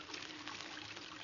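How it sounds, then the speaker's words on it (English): Water runs from an opened faucet, a steady, soft, continuous hiss and trickle with no breaks, faint and close, with no voices over it. "Now, I'll just open this faucet and..."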